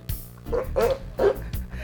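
A sea lion barks in three hoarse, dog-like yelps spaced about half a second apart, fairly close, over low background noise.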